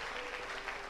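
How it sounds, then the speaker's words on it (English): A church congregation gives a brief burst of hand clapping during a ministry service, a dense, fairly faint wash of many hands. "Mighty hand clap to the Lord."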